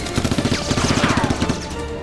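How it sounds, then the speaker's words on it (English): Rapid Nerf gun shots in a mock SWAT-versus-robbers battle sound as a quick rhythmic burst of sharp, close, snappy pops that run for about a second and a half before trailing off. "The two SWAT members see a target and shoot"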